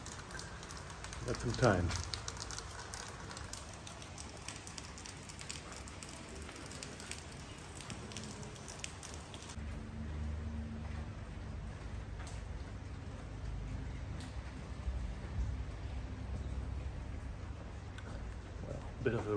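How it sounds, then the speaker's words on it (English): Rain falling steadily in Shkodër, Albania, a soft continuous patter that grows fuller and more present partway through, with someone talking briefly nearby. "Well, bit of a rainy day here today."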